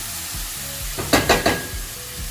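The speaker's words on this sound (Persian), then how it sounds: "ما با هم پخش میدیم تا یک مقدار گوشت سفید بشن" Meat pieces sizzling in a hot pan while being stirred for a pasta dish, a steady close fry broken by several scraping stirs against the pan.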